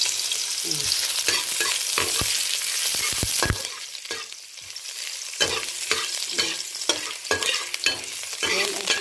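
Ginger stir-fried in oil in a pan sizzles loudly and continuously, broken by repeated sharp scrapes and clacks of a utensil stirring, with no speech.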